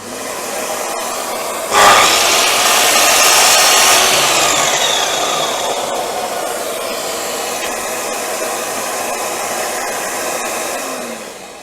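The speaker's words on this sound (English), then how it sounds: "if you cut the 45 on this machine, it's actually" A Festool miter saw cuts a 45-degree angle, starting with a loud abrupt burst, then holding a steady, close whirring whine through the cut before the motor sound slowly tapers off near the end.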